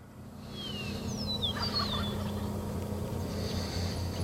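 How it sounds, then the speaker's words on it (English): Wild turkeys gobbling at a distance, a few short rising-and-falling gobbles in quick succession over a steady low background rumble, with no voices. "They're to the north of me, gobbling their heads off."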